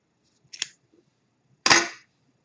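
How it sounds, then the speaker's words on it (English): Scissors snip through crochet yarn in two sharp cuts, a short click followed about a second later by a fuller, longer snip, close and alone with no talking. "go ahead and cut your color for the lights"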